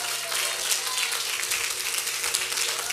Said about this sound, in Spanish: Vamos a darle un aplauso a todos los que participaron